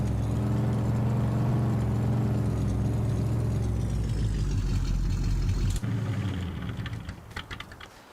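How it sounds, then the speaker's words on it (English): A tractor engine in a farming video game hums steadily while pulling a trailer, a loud continuous drone that cuts off abruptly, leaving faint clicking and ticking sounds. "Let's just get this trailer parked up here."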